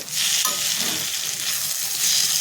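Dal sizzling and being stirred in a pan during cooking of dal palak, a steady loud frying hiss with a brief scrape of stirring near the start, no voices.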